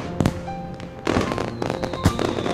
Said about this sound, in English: the technicolor fireworks bursting overhead